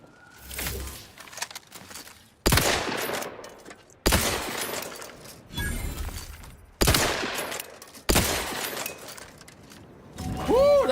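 Gunfire in The Outer Worlds 2 comes as loud, sharp bursts that start abruptly at roughly one-to-two-second intervals, each trailing into rattling echo and debris, with a ringing tone near the end.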